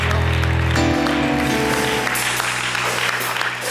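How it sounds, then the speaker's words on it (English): At an Easter sunrise church service, the congregation claps in praise while organ or keyboard music plays loudly, the applause blending into the sustained chords for several seconds. "give God a hand clap of praise"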